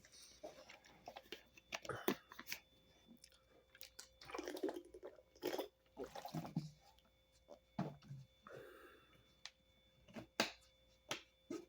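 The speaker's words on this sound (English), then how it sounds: "I'm going to take a drink of water real quick" Someone takes a quick drink of water, with close, quiet sips, swallows and wet mouth sounds repeating in short irregular bursts. No one speaks.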